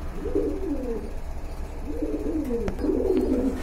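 Pigeons at a pigeon market give low, rolling coos in two or three bursts, close by, over a constant crowd hum.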